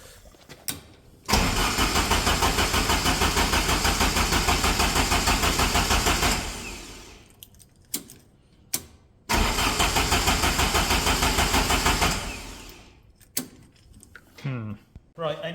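A UAZ 452 Russian 4x4 van fitted with a turbocharged Saab 2.3 engine cranks in two long, loud, rhythmic bursts of several seconds each, with brief pauses and some clatter between attempts.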